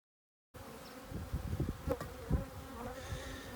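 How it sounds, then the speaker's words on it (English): Honey bees buzz steadily around a beehive box, a dense low drone with swelling bursts as individual bees pass close, heard alone without talk. "every time I want to come try to work my bees"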